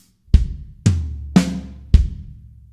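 Four separate drum hits in a slow linear fill across kick, snare, hi-hat and rack tom on a drum kit, each sharp attack decaying before the next, close and dry with no voices.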